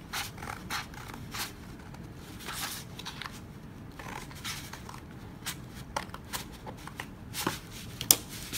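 Scissors cutting paper while building a pop-up story book, a faint series of short crisp snips and rustles repeating steadily against a quiet room.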